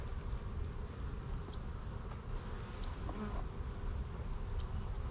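Honey bees hum during a beehive inspection, a faint steady buzz with a few brief whines of single bees flying past, alongside light handling noise from working the hive.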